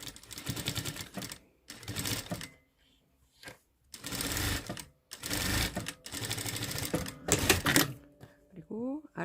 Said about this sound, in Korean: 위쪽은 상침을 해주고 있어요.